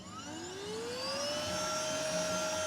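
Vacuum cleaner sucking sand out of a 2005 Honda Element, its motor whine rising in pitch and then holding a steady, close whirring tone.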